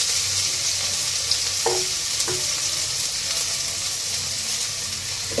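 Chopped garlic and onion fry in oil in a rice cooker pot, a continuous close sizzle broken by a few sharp crackles and light stirring knocks, with no talking.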